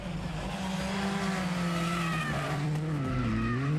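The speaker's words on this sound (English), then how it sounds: "A wild slide and spin across the finish of stage 8" Rally car at the Rally di Roma Capitale stage 8 finish slides and spins, engine note rising and falling with tyre skid noise, fairly loud and close.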